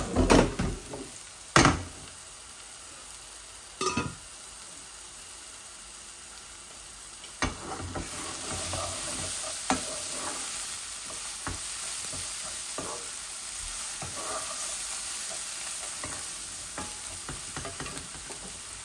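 Flat beans from a home garden fry in a pan with a little water, a steady sizzle following several loud clattering knocks and stirring scrapes at the start.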